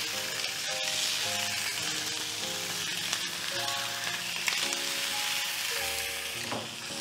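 Prawns and a salmon fillet frying in a pan, a steady close sizzle running throughout with occasional louder spits and crackles, and music playing underneath.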